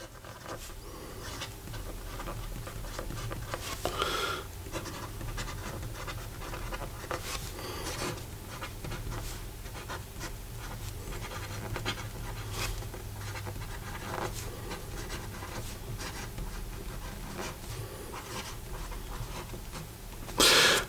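A Visconti Opera Crystal fountain pen writing on paper, a continuous close scratchy rasp of nib strokes with small irregular pauses, over a low background hum and ending in a louder knock.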